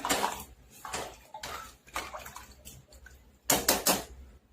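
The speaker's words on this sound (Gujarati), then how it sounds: "3 મોટા કપ પાણી એડ કરીશું." Water, three large cupfuls, poured into a pressure cooker holding dal and rice for five-lentil khichdi: splashing pours in several bursts, with a louder burst near the end and faint clinks of the vessel.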